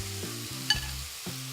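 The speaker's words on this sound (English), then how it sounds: "You can hear the pan is sizzling" Beef sizzles steadily in a hot frying pan, a continuous hiss with a low hum underneath and no talking.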